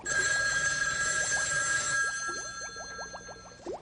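A telephone bell rings indoors with a bright continuous trill that cuts off partway, followed by quieter clicks and handling noises.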